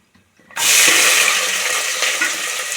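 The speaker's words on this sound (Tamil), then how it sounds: "இப்போ வெங்காயம் சேர்த்துருவோம்." Sliced onions hit a hot pan of oil with cardamom and cashews for vegetable biryani, setting off a sudden loud, bright sizzle that holds steady as the frying continues, with no talk.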